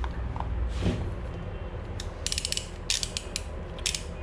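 A 22 millimeter socket wrench ratchets on a Royal Enfield Himalayan during an engine oil change, giving a few scattered clicks and then bursts of rapid pawl clicking, close up over a noisy background.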